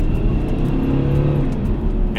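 A Mercedes-Benz C220 turbo diesel coupé with 170 hp accelerates in a short, steady burst, its engine and turbo whir rising moderately from inside the car with no talk.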